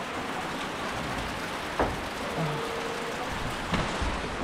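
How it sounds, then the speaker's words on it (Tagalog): Steady, dense rain hiss fills the whole stretch, with a couple of brief knocks and a faint tonal whine drifting through the background. "Grabe ang ulan."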